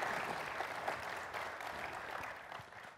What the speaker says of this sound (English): Let's have a big round of applause for our panelists.